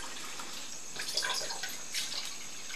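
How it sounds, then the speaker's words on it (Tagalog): Water is poured into a cooking pot to make broth for Filipino sotanghon noodle soup, a soft continuous splashing stream with slight bubbling swells, close and fairly quiet, with no talking. "Lagyan ng tubig para sa sabaw niyang to sotanghon."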